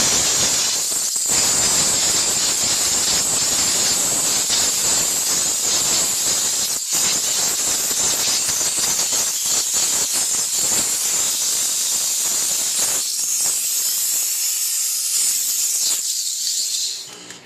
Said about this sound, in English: simply with the steam, pressure, and the heat itself, we're going to get in there, blow all this stuff out really fast